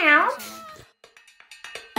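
A voice imitates a cat's meow in one drawn-out, rising and falling cry, followed by a few quiet clicks and taps and the start of speech.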